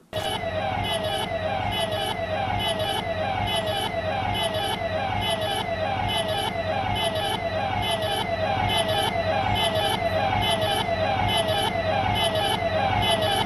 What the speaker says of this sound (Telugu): అదే పోలీస్ వాహనం